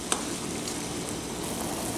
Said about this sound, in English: Go ahead and get the sausage in the pan.